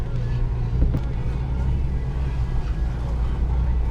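A 2002 Nissan Xterra rolls along an off-road trail, its steady low engine rumble mixed with wind buffeting the microphone and loose cargo bumping in the back.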